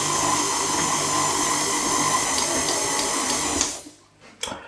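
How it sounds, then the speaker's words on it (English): A stand mixer fitted with a dough hook kneading sourdough bread dough, giving a steady, loud motor whir that runs on evenly and then cuts off near the end, leaving a few faint knocks. "I'm going to swap the paddle for the dough hook. And we'll just let that chug away for about 5 minutes till we've got a nice elastic ball of dough."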